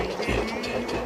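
Steady, comforting train-like rhythm, a continuous rolling rumble with soft repeating clicks, moderately loud and close throughout the short stretch, no voices over it.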